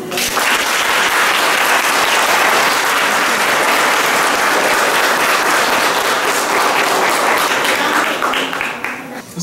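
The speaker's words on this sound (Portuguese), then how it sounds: "ele merece uma salva de palmas." A church congregation applauds the priest after mass, producing loud, dense, sustained clapping throughout that fades slightly near the end.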